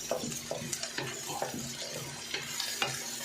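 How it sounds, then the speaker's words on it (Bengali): Onion and garlic fry in a frying pan for a white flat bean stir-fry, a steady sizzle broken by repeated scraping strokes of a spatula against the pan at a brisk, uneven rhythm. "পেঁয়াজ রসুন ফ্রাই প্যানে ভালো করে ভেজে নিচ্ছি"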